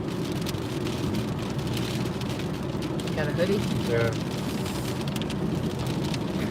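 Heavy rain pours outdoors in a steady, loud, unbroken wash, with people briefly talking over it partway through.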